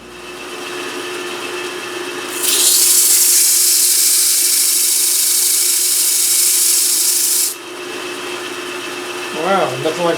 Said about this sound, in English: And I'm going to try to sand it off.